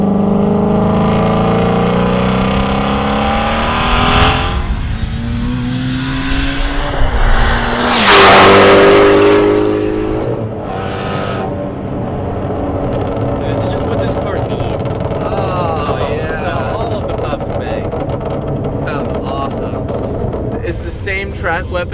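A Hennessey-tuned Mustang GT350R with a 3-liter supercharger making 850 horsepower roars around a race track, engine rising and falling through loud passes and revs, with a sharp peak as it blasts by, and voices talking over the engine noise.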